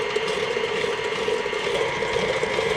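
An electric mixer creams butter and sugar for chocolate chip cookies at high speed, producing a steady, close mechanical whir with a fine rattling texture and no talk over it.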